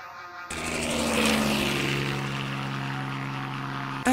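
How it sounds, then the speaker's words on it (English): Helicopters flying in a LEGO stop-motion chase scene, a continuous whirring rotor and engine drone that starts abruptly and swells slightly before holding steady, with no talking. "I'm sure they're still chasing us. 3 helicopters behind us."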